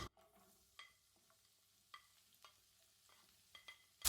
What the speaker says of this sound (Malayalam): ചൂടായ ഓയിലിലേക്ക് ഒരു സവാള കനം കുറച്ചരിഞ്ഞത് ഇതിലേക്ക് ചേർത്ത് കൊടുക്കാം